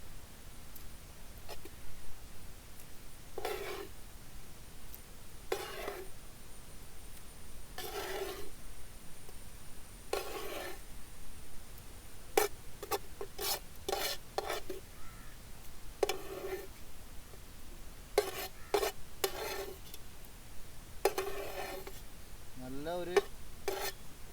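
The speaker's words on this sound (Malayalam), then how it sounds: "ആ കൂട്ട് ചിക്കനും സവാള എല്ലാം കൂടിയുള്ള മിക്സിങ് നമ്മൾ മുട്ടയിലേക്ക് മിക്സ് ചെയ്തെടുക്കുന്ന" A chicken and onion mixture being stirred into beaten eggs for an omelette, with close, repeated scraping and clinking strokes at a steady pace, then a quicker run of clatter toward the end, and no talking.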